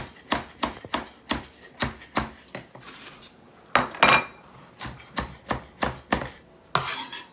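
A knife chops stemmed vegetables on a board with rhythmic sharp knocks, about two a second, close and clear, broken by a brief pause and a short clatter midway, with no talking.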